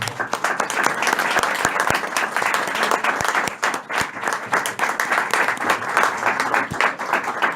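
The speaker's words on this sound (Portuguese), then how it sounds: "Queria que os irmãos dessem uma salva de palmas pela vida do pastor Wellington" A church congregation breaks into sustained applause, a dense wash of clapping from many hands with a few sharper nearby claps standing out, continuing steadily throughout.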